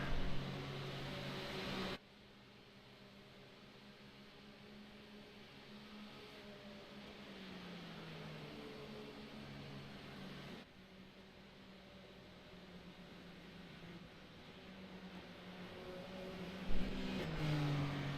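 Super Formula Lights race cars in iRacing running at Mosport, a steady, fairly quiet engine drone that holds for most of the stretch with a brief louder burst near the end.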